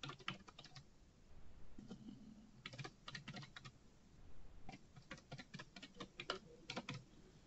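Typing on a computer keyboard in quick clusters of light clicking keystrokes with short gaps between bursts, close and quiet in a hushed room.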